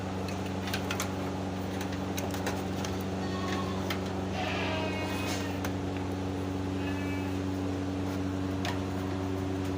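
Female goats bleat repeatedly on a Thai goat farm, several calls rising over a steady mechanical fan hum, with occasional knocks and rustles nearby.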